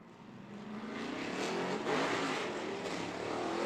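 Drift car on a banked oval speedway at a pro-am drift event, engine roaring steadily at high revs as it slides along the outside wall, heard from a distance, rising slightly in loudness.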